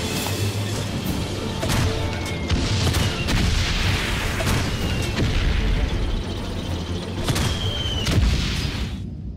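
Bombing explosions in the video game Valiant Hearts, a series of deep booms and sharp bursts rolling over a rumbling battlefield din, loud and repeated throughout with no pauses.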